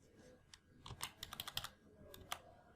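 Typing on a computer keyboard, a quick run of soft, close key clicks in an irregular burst, with a few isolated taps before and after, quiet and alone.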